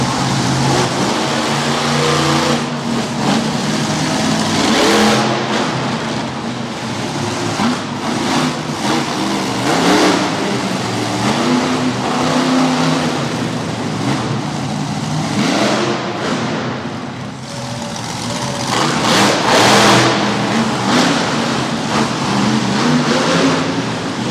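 A loud, powerful monster truck engine roars and revs repeatedly, rising and falling in long surges, with a dip in the middle, at a monster truck show in Harrisburg, Pennsylvania.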